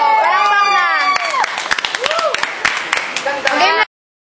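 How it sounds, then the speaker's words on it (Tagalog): Party guests at a surprise 18th birthday clapping and cheering, with sharp claps and excited voices and shouts close by, continuing for a few seconds before cutting off abruptly. "Palakpak na!"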